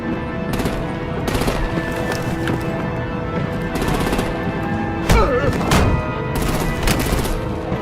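Rapid bursts of automatic gunfire ring out in a game battle scene, repeated volleys crackling loudly over a dense mix of other combat noise and effects.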